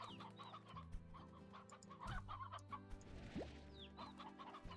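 Chickens cluck and squawk continuously in the Slime Rancher video game, several birds overlapping in a busy farmyard chorus with a few rising calls, moderately loud and without speech.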